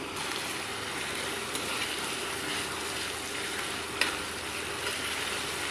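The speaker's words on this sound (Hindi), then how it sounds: "सौते कर लेंगे टमाटर को हम" Chopped tomatoes and onions sauté in a pan with a loud, constant sizzle. A faint clack of a stirring utensil comes partway through, and no one speaks.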